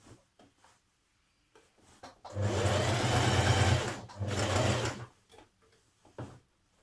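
A sewing machine stitches along the neckline facing of a summer top in two close, whirring bursts, the first longer, with a brief pause between and quiet handling sounds before and after.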